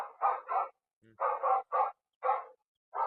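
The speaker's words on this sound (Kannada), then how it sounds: "ನಾಯಿ ಸೌಂಡೇ ಇದ್ರೆ ಚೆನ್ನಾಗಿರುತ್ತೆ, ಜಾಸ್ತಿ ಜೋರಾಗಿ ಬೊಗಳುತ್ತೆ" A squirrel-scaring device on a pomegranate farm plays a recorded dog bark: a rapid series of loud, close barks in short bursts, separated by brief silences.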